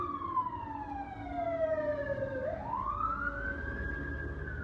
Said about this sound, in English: I don't know if you can hear that siren, but it's loud.